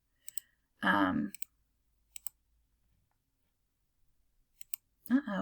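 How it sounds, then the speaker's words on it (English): Computer mouse clicks in 3D CAD software, heard as a few sharp, close double clicks spread across the clip, with a person speaking briefly between them. "I'm going to click the green check mark"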